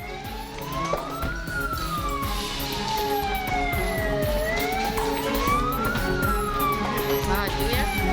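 A fire truck siren wails in slow rising and falling sweeps as it arrives at a burning DPRD government building in Indragiri Hulu, loud and continuous over background commotion and faint talk.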